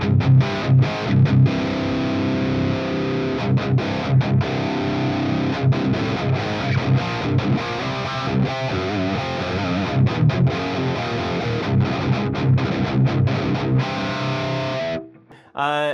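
Electric guitar driven through an overdrive pedal into a Mesa Recto Roadster amp, playing a continuous loud distorted riff with a wah-like, fizzy top, chords ringing almost unbroken before cutting off abruptly near the end.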